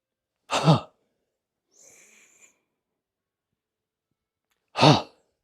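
A person breathing during a qigong exercise, with a loud, brief sigh-like breath near the start, a faint airy sound in the middle, and a second strong breath near the end, separated by near silence.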